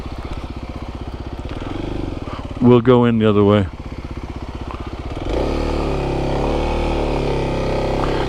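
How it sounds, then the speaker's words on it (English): A fairly quiet motorcycle ridden along a backcountry route at Redington Pass hums with a steady low engine drone throughout, swelling louder near the end, while someone speaks briefly over it. "I'm glad this bike isn't too noisy."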